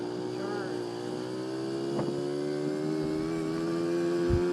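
A 1981 Honda Express NC50 moped with an SHA carburetor runs at full throttle, its small engine holding a steady high buzzing drone that climbs slightly in pitch, with wind noise and someone talking over it.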